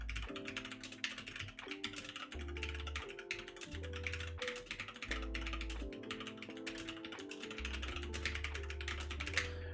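Rapid keyboard typing during a Unity C# coding stream, a dense run of close, crisp key clicks that continues throughout over steady background music.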